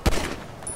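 A single sharp gunshot in GTA5 with a Walking Dead mod, loud and close, followed by a short fading tail.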